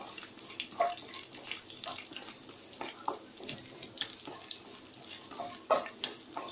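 Small shallots fry in a tempering for munakkaya curry while being stirred, a close, busy sizzle with scattered spatters and scraping clinks.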